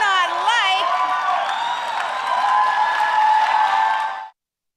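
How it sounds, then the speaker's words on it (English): A conference crowd at CPAC breaks into loud applause and cheers after a political speech, with whoops and shouts over sustained clapping that cuts off abruptly near the end. "After the applause, there was some yelling in the crowd for the CPAC and for Palin to run for president in 2016."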